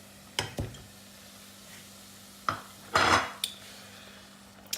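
Chicken thigh pieces with onion, curry powder and a splash of water cook in a pan over medium heat; a soft sizzle runs under sporadic clanks of a utensil against the pan, several sharp knocks spread across the stretch.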